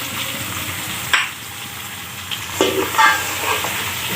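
Potatoes and tomatoes with green chilies and fresh coriander being stirred in a hot pan: a steady close sizzle broken by a few sharp spoon scrapes and clinks against the pan, with no talking.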